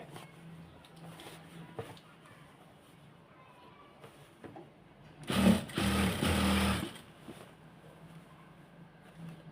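An electric sewing machine stitches a salwar, running in one close, loud burst of rapid whirring for under two seconds amid quieter handling of cloth before and after.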